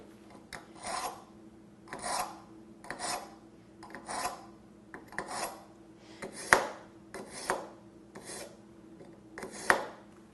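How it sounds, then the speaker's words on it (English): A dull kitchen knife is drawn repeatedly through the coarse and then the fine slots of a knife sharpener, giving about ten evenly spaced raspy strokes that each swell and fade, close and clear with no talking. "run this knife through anywhere between 5 to 10 times on the coarse, and because this is dull, I am going to go through the coarse and then through the fine"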